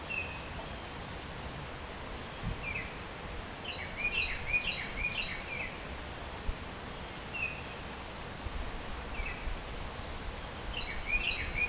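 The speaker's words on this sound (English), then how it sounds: "Can you hear that bird?" Short bursts of bird chirping and song, somewhat distant, recur through steady broadband outdoor noise.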